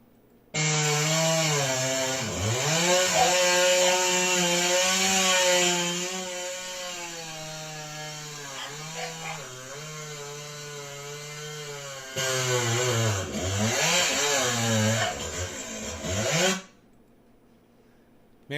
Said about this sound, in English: It's just a short little video of Mark sawing with Rogi.